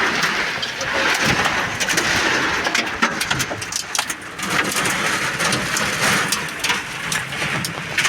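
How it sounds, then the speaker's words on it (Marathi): Heavy rain pours down steadily at the village fair in Jevali, a dense continuous hiss with occasional spatters and faint background rumble. "पाऊस कसला मोठा पाऊस पडत आहे"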